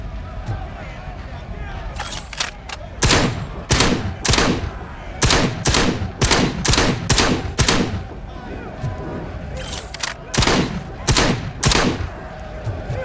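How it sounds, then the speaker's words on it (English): Combat shotgun S12 firing in the Robocop video game, heavy blasts repeating in quick bursts with short gaps, loud and close over a busy game background. "Combat shotgun S12?"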